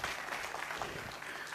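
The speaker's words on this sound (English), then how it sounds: "Please give him a round of applause" Audience applause at a Lions Club talk show, a steady burst of clapping filling the room from start to finish with no pauses, loud and close.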